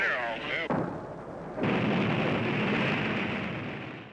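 A rocket launch on Florida's Space Coast roars up after a countdown voice, becoming a loud, sustained broadband rumble that holds steady for several seconds.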